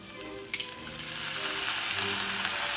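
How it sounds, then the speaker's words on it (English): Salmon fries in a hot pan and a splash of balsamic vinegar hits it, setting off a sudden, louder sizzle that keeps crackling steadily, close up, with no talking. "And then I'm going to put some balsamic vinegar in here."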